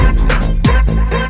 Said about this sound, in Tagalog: Tapos yung backspin naman ay ganito.